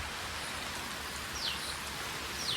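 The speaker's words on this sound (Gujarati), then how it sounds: "અચાનક વરસાદ ચાલુ થઈ ગયો" Steady rain falls in a soft, even hiss with no voices, a couple of faint high chirps breaking through near the end.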